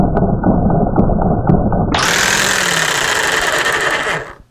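A DeWalt DW317 jigsaw with full orbital action runs loud and close: a rough, buzzing rattle of the reciprocating blade, then a harsher, brighter cutting whine as the blade bites into the workpiece, cutting off at the end.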